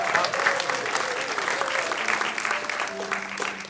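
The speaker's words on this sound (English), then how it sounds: "a round of applause for" Steady, sustained applause from a worship congregation in a synagogue, dense and continuous throughout, with a faint tonal hum underneath.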